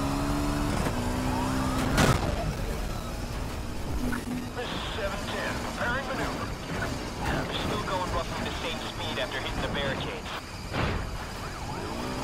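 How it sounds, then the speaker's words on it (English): Police car sirens wailing during a street pursuit in Need for Speed Heat, blended with engine roar and mechanical noise under steady radio-style talk throughout. "Flip on the sirens and get after them."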